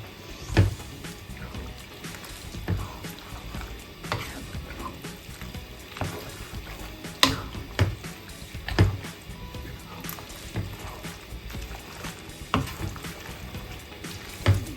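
Hot pasta cooking water is added bit by bit to creamy pasta with chicken tenderloin and mushrooms, then stirred in: wet squishing and soft sizzling with recurring stirring knocks, close and steady, with no talking.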